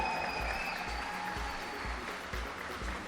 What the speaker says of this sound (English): One final round of applause for our competitors.